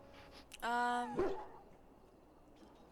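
A dog in the Dragon Age: Origins game whimpers and yelps, a short high, wavering whine rising over a brief bark-like burst, close and fairly loud with a game character speaking nearby.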